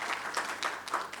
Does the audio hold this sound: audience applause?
yes